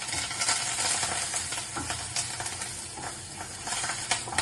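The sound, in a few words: peanuts, mustard seeds and curry leaves frying in oil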